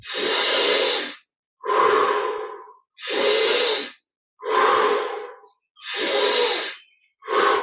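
Slow, deep breaths in a guided meditation: loud, airy inhales and exhales alternate in a steady rhythm with short silent pauses between them.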